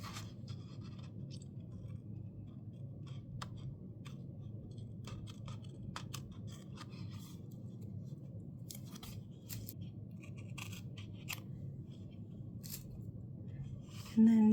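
Scissors snip through paper for a creative journal spread, a long run of small crisp cuts and clicks close by over a low steady background hum.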